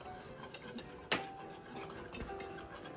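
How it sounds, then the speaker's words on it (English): A whisk scrapes and clinks against a pot while a thickening sauce for an Ethiopian batter is stirred, giving light, irregular metallic taps and one sharper knock, close and fairly quiet. "I'm gonna whisk this in and bring it back to a boil."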